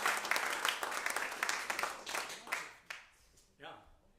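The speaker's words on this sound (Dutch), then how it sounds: "En als je applaus van jezelf." An audience at a small local venue claps in a short round that thins out and fades, with a voice speaking over the tail end.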